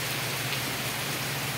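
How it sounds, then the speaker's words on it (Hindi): Steady rain falls in Mumbai, an even, dense hiss of drops on surfaces, moderately quiet and continuous with no voices. "तो देखिए पूरा बारिश हो रहा है, पानी भर रहा है ना"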